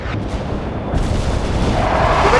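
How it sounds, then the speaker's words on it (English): Artillery and airstrikes rumble in the World in Conflict strategy game, a dense low booming barrage with overlapping distant blasts, loud and continuous across the short stretch with no voices. "call in artillery and airstrikes on them"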